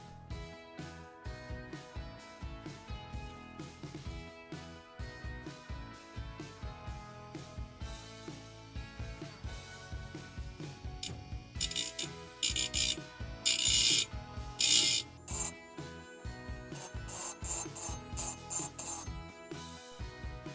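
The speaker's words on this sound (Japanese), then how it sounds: "ダイヤモンドディスクの研磨機を使えばあっという間に修正できます。" A diamond disc grinder sharpens the chipped cutting edge of a pair of nippers, giving loud bursts of harsh grinding that build in the second half over a steady mechanical whir.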